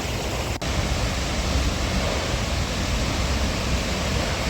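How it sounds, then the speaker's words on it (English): Hardraw Force, a high single-drop waterfall set in Wensleydale woodland in the Yorkshire Dales, roars as a steady broadband rush of falling water, continuous and fairly loud. "England's highest single drop waterfall, set within 15 acres of woodlands in Wensleydale."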